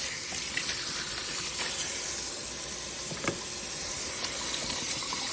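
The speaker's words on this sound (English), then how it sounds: "I'm going to rewash my hands." A kitchen tap runs steadily while hands are washed during vegetable-stock preparation, a continuous close splashing hiss with no talking.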